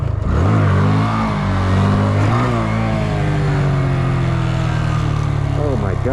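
A Honda Grom motorcycle engine revs close up in a parking lot, loud and continuous, its pitch climbing and dropping with uneven throttle blips and a few quick rises near the end.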